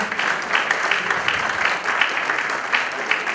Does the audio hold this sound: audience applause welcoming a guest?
yes